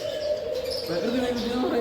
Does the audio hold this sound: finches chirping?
yes